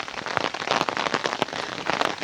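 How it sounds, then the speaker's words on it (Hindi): Heavy rain pours down outdoors in a steady, dense hiss of countless drops, loud and close, with sharper spatters scattered throughout and no voices. "इतनी ज़्यादा बारिश हो रही है कि मुझे कुछ ठंड लग रही है"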